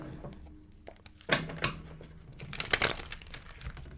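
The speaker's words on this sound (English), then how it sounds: "let us shuffle right." Tarot cards shuffled by hand, giving a few sharp crinkling riffles and papery flutters over about four seconds, close and fairly quiet, with no speech.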